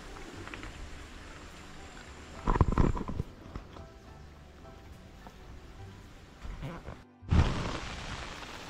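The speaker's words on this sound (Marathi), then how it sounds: "आता थोडंसं पाऊस चालू झाला" Light drizzle falling over open countryside during the Ganesh festival season, a soft, steady hiss with a few louder rustling bursts, heard alone without talk.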